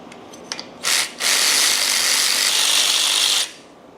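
A power tool working on the compressor bracket of a Jeep Patriot, with a few small clicks, then a short burst and a sustained loud, close whirring run of about two seconds that stops abruptly.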